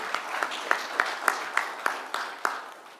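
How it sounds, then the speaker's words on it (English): Clapping from an audience at a football administration campaign speech: moderately loud, with sharp, regularly spaced claps about every third of a second standing out over a softer background patter. "Can we clap hands for them, please?"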